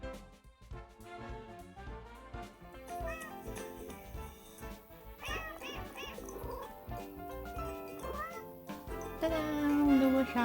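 A cartoonish cat meows during a casual video game, the short mewing calls sitting amid a busy musical soundtrack that plays throughout.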